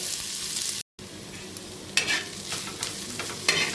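Onions frying in a pan until reddish-brown, a constant close sizzle with occasional scraping stirs, a brief dropout near the start, and no talking.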